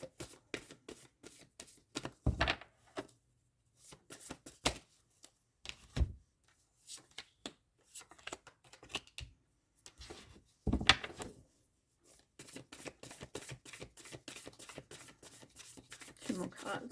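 Tarot cards being shuffled by hand, bursts of quick riffling and slapping of the deck coming in irregular clusters separated by short pauses, close and fairly quiet.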